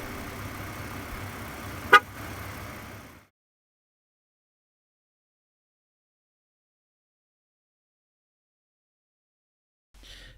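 A 2017 Nissan Pathfinder sounds one sharp, brief beep over a low idling hum to signal a fully inflated tire, then everything goes silent.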